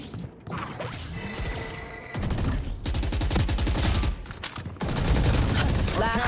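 Rapid automatic gunfire bursts from the shooter game Valorant, loud and close, with dense rattling volleys separated by brief gaps and mechanical clicks between them.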